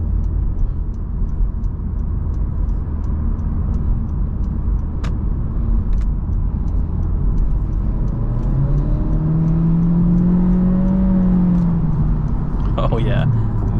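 A 2024 Honda Civic with a naturally aspirated 1.5-litre four-cylinder and CVT accelerates in Sport mode, a steady engine drone rising in pitch under the road and cabin rumble, with a few clicks and someone talking over it.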